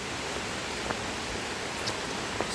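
Rain falls on trees along an outdoor walk, a dense, steady hiss of drops with a few sharper patters against leaves, close and continuous with no voices.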